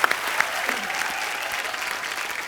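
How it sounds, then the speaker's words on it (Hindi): Loud audience applause from a crowd, dense continuous clapping sustained evenly throughout the short stretch. "इस बात के लिए जोरदार तालियां।"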